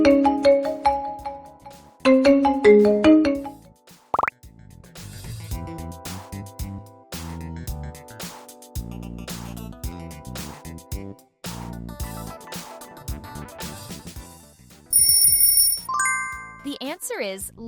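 Lenovo smartphone ringtone: a bright, tinkling melodic jingle of chiming notes with short pauses, clear and close, ending in a few high bell-like tones; a voice speaks briefly alongside it.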